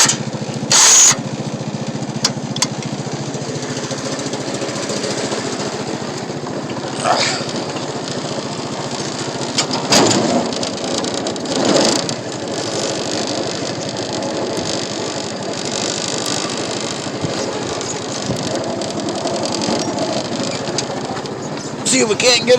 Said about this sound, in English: I'm going to free spool it and back the gator back up again